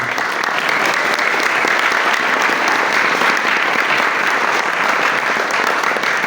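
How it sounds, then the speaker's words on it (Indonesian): Steady, dense applause from a large crowd at an Islamic boarding school gathering, continuous and loud throughout without breaks. "Tepuk tangan dulu dari sini."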